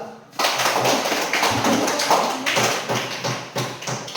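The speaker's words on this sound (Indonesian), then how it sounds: "Tepuk tangan untuk kelompok dua." After a brief quiet start, a classroom breaks into applause for the second group: many hands clapping in a busy, even patter that carries on for about four seconds.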